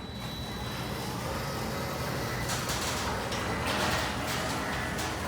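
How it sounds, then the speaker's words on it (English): A metal garage door rolls along on a quiet electric opener, giving a steady, continuous rumbling hum with a faint whine. The sound grows slightly brighter and rougher partway through, heard alone with no talking. "All you hear is the noise of the metal door."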